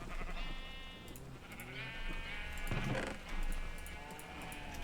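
Sheep in Minecraft bleat repeatedly in a pen, several overlapping wavering calls over steady game background noise.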